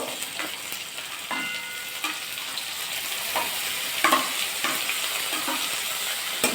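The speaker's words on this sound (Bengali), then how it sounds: "এবার পেঁয়াজগুলো দিয়ে দেবো কোচানো পেঁয়াজগুলো" Sliced onions frying in a pan with cardamom, a dense steady sizzle close by, punctuated by repeated scraping strokes and clinks as they are stirred, with no one speaking.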